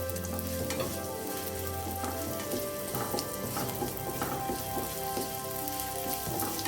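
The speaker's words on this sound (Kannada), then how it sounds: "ಈರುಳ್ಳಿ ಚೆನ್ನಾಗಿ ಫ್ರೈ ಆಗಬೇಕು." Finely chopped onions fry in a pan for a green peas masala curry, a dense, even crackling sizzle close by with faint stirring, no voices.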